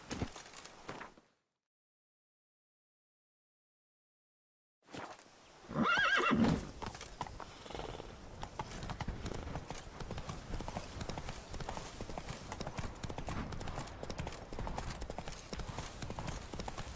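The horse Roach in The Witcher 3 gallops with steady, rhythmic hoofbeats after a short silence, preceded by a loud, close neigh, while a voice speaks briefly.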